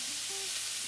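Oil heats in a hot pan beside a steak, a continuous soft hiss of sizzling close by, with no talk.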